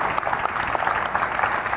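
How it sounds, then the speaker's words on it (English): Audience applause for panelists at a 2019 education summit, a steady wash of many hands clapping at moderate volume throughout, with no one talking over it. "It's a big round of applause for our panelists."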